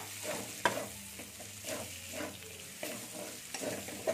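A spatula stirs ginger paste and chopped tomatoes in a frying pan, with rhythmic scraping strokes over a soft continuous sizzle, close and fairly quiet, no talk.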